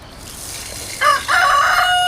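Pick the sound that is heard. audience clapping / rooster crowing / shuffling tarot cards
rooster crowing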